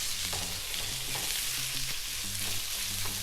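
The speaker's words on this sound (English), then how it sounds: "Just let that garlic just cook out slightly." Garlic fries in a pan for a sea bass fish curry, a steady close sizzle with a faint low hum beneath, even and unbroken throughout.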